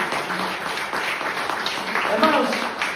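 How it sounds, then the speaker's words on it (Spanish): A church congregation applauds together during a Spanish-language worship service, a steady wash of clapping that runs the whole time with a preacher's voice and crowd voices mixed in. "demos un aplauso al Señor"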